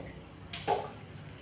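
Water is poured into a boiling dhokla tempering of sugar and water on a stove, giving a brief, soft splash and hiss partway through, with quiet room noise around it.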